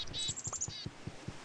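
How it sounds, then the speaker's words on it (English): Birds chirp in Minecraft with the Tekkit modpack, a quiet run of short, high tweets over a soft, regular thumping pulse of in-game sound. "These birds are pissing me off."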